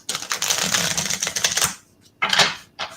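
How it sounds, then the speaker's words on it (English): Tarot cards are shuffled in quick riffling bursts, a dense flurry of crisp card snaps up close, then a pause followed by two shorter shuffles. "I'll shuffle the cards"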